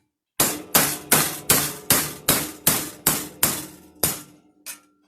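A hammer drives a 1/2 inch disc punch through thin metal with a shim behind it while making jewelry: about ten sharp, ringing blows at an even pace, each decaying before the next, then a lighter final tap.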